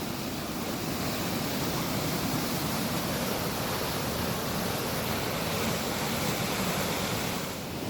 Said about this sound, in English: Is that a big waterfall?